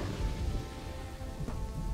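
Steady rain hiss in the Kingdoms and Castles video game, a continuous broadband patter with a faint low rumble underneath and no voices.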